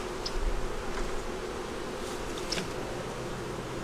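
Honeybees buzzing around a hive on a day of changed weather, a dense continuous hum with sharper individual bees darting close by now and then.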